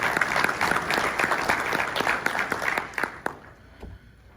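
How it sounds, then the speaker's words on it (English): An audience at a pension-fund conference keynote claps steadily, a dense wash of close applause that holds for about three seconds, then thins out and fades away. "So please give yourselves a round of applause because I think you deserve it."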